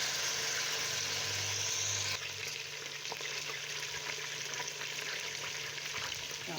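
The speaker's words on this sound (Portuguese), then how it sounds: "E deixa ela fritar aqui do outro lado." Beef pot roast frying in a pan, a steady close sizzle that runs throughout with no voices, easing slightly partway through as the meat settles against the pan bottom.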